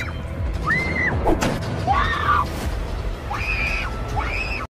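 A woman's shrill, rising screams, several separate cries with gaps between them, ring out over a loud, busy background of rumble and clatter during a frightening encounter with a cosplayer.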